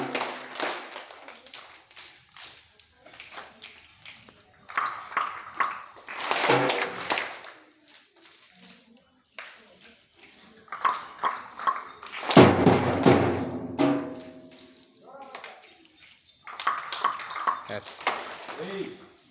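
Schoolchildren clap the Nali-Kali clap together in a patterned rhythm, with bursts of group clapping between stretches of talk and chanting, fairly close.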